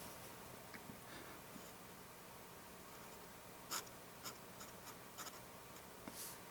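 Scratchy nib strokes of a 1920s Eagle Pencil Company fountain pen with an extra fine nib writing on paper, faint and close, in short intermittent scratches and ticks against a quiet background.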